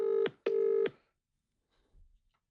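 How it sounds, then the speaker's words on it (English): An Italian phone ringtone gives two loud, steady electronic tones with a brief gap between them, followed by near silence and a faint low rustle. "that's not even an Italian ringtone"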